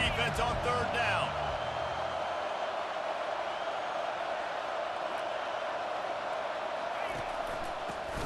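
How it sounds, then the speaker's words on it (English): A stadium crowd roars steadily during a third-down play in College Football 25, Auburn at Arkansas. A broad, even wall of crowd noise is heard beneath a commentator talking. "Decibels rising as the crowd gets behind this defense on 3rd down."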